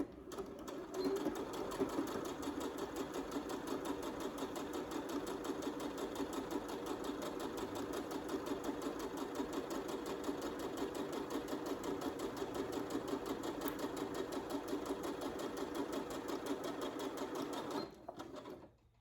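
A sewing machine stitches paperbag shorts in a steady, continuous run of rapid needle clatter, close and even for about seventeen seconds before stopping.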